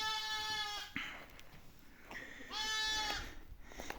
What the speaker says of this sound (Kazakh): Ұрғаш қозы, әдемі.